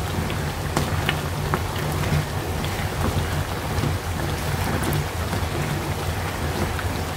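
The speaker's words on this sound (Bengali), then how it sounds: "আমি এখন চিনি শিরার সাথে ভালোভাবে নেড়ে চেড়ে নিব।" Khurma being stirred in hot melted sugar syrup makes a continuous crackling sizzle like rain, with sharp clicks from the spoon scattered through it and no talking.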